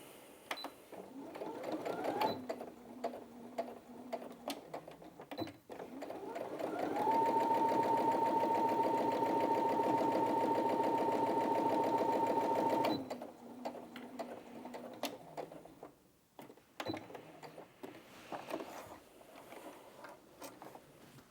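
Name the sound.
Brother Innov-is A16 sewing machine sewing through 4 layers of fabric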